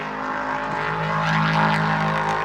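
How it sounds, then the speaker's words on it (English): Prototype race cars lapping Silverstone during a track day, heard as a steady engine drone with harmonic tones swelling toward the middle, fairly distant and continuous with no talking. "there's a track day going on with some prototype cars"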